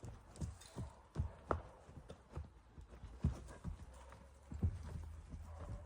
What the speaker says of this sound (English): Callie, why is the horse running in circles?